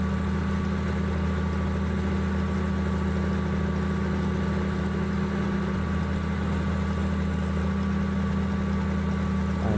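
Tractor engine idling in a farming video game, a steady, loud, low rumble with constant mechanical drone running unbroken throughout with no talk.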